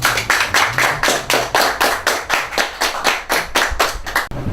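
Graduation audience clapping loudly and steadily, a rhythmic run of roughly a dozen strong unison claps from a close crowd.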